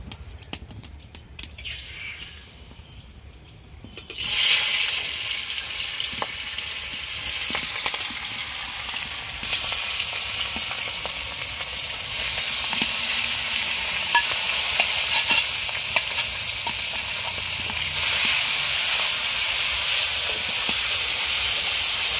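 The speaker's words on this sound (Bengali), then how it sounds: "কড়াটা গরম হয়ে গেছে, এবার তেল দিয়ে দিলাম।" Oil hits a hot wok for kadla fish curry, bursting into a loud, sustained hissing sizzle after a few quiet seconds and carrying on steadily with occasional faint clicks.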